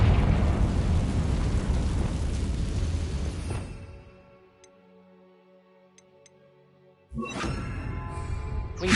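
Confringo fire spell cast in Hogwarts Legacy, a loud roaring explosive burst that fades into near silence, then another sharp blast erupts a few seconds later.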